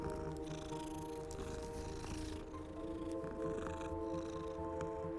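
A cat purring in the video game Hogwarts Legacy, a soft steady rumbling purr under faint game ambience and music, close and quiet.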